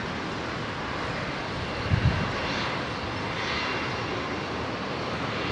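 Qantas 51, a jet airliner rolling for takeoff on runway 01 right at Brisbane bound for Singapore, sends a steady, distant engine roar that holds evenly throughout, with a brief soft bump partway.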